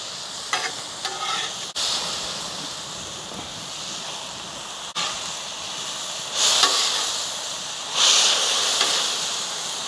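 Carne asada beef sizzling and frying on a Weber Slate 36-inch griddle outdoors, a steady hissing spatter with brief scraping stirs and two louder surges of sizzle near the end, no talking.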